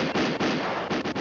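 A rapid burst of cartoon gunshots from a hunter's gun, several loud cracks in quick succession close up, alone without talk.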